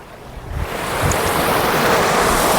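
A mini waterfall's flowing water rushes loud and close, rising into a dense, continuous roar after the first second. Wind buffets the microphone, and no one speaks.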